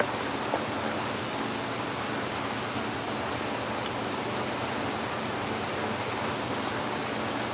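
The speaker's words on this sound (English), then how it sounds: "you're going to hear some noise here because we're going to turn the dust collector on" A steady, broadband roar of a dust collector and fans in a shear-sharpening shop runs nonstop, humming together at constant loudness, with no voices.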